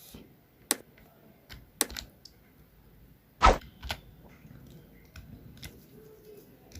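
Taps on a mobile phone screen keyboard while entering C code, a handful of sparse, irregular clicks spread over several seconds with one sharper tap in the middle, close and quiet.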